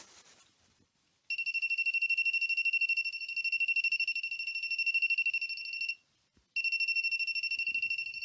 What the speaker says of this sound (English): Why when I hold the voltage tester from the normal side in my hand, it stops to ringing